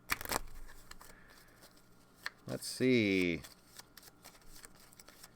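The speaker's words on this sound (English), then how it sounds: "Our most important shuffle of the game so far." A deck of cards for the Book It! tabletop wrestling card game is shuffled up close in a quick, crisp riffling burst, with a brief spoken remark nearby.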